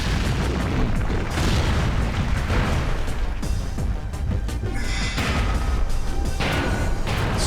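Loud, dense combat in the video game One Must Fall Battlegrounds, with repeated booming blasts and crackling bursts, continuous throughout, with bright laser-cannon beam sweeps layered over the noise.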